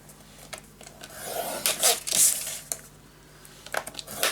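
A blade or scoring tool runs along paper while score lines are made for a handmade travel-suitcase mini album, giving several short, soft scraping strokes at close range with quiet pauses between them.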